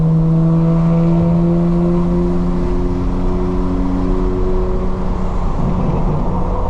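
A BMW M4 Competition xDrive engine under spirited driving, a loud continuous drone whose pitch shifts and wavers as revs change, with no voices over it.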